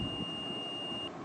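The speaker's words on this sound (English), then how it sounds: "The beep sound continuously will go for make sure the rider wear the chin strap detector." A motorcycle helmet's chin strap detector alarm emits one continuous high electronic beep that holds steady and then cuts off just before the end, over a constant background hum.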